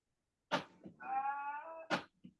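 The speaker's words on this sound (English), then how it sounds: "Shut up, sheep." A sheep gives a single clear bleat of about a second, close and loud, set between a few short knocks and clunks nearby.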